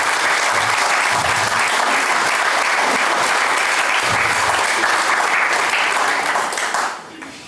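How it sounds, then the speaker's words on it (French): Sustained, loud applause from an audience at a village New Year ceremony in Badefols-d'Ans, a dense steady clapping that fills most of the stretch before fading out near the end. "Je pense qu'on peut les applaudir."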